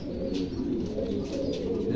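Pigeons coo continuously in a pigeon showroom, a dense, throaty burbling of several birds close by with no break.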